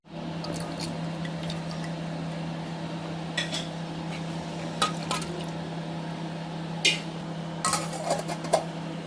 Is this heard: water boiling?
yes